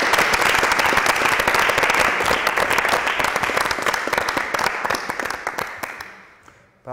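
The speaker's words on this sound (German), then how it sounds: "die haben großen Applaus verdient" Enthusiastic audience applause at a panel event, a dense burst of many clapping hands lasting several seconds before gradually thinning and fading out.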